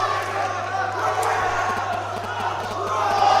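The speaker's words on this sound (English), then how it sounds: "Crowd's also going nuts over my shoulder for Matt A" Crowd roaring and cheering at a grappling match, a steady, dense wall of voices with shouts rising near the end, heard from the floor of a live mat session.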